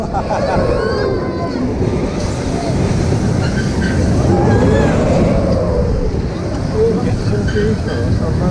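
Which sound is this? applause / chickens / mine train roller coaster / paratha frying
mine train roller coaster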